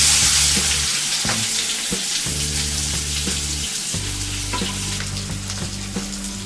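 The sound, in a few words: onion frying in oil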